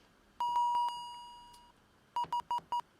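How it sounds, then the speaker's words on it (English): A plain synth beep from a tone generator in Ableton's Operator synth sounds: several short tones, one sustained tone fading out, then four quick evenly spaced beeps. "It's one of those stupid little synth sounds you hear all the time"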